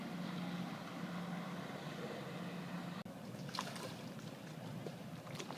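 A speedboat on the river drones past at a distance, its steady engine hum fading, followed by lapping, splashing water from the wake after a brief click.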